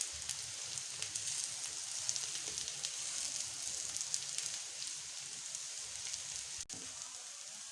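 A mooli paratha (radish-stuffed flatbread) fries on a hot pan over a medium flame, giving a steady, soft, hissing sizzle with faint crackles and one brief tap near the end, and no voices.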